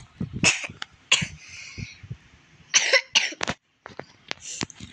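Several harsh coughs in bursts with short pauses between them, close and loud, with a throat-clearing sound in the middle.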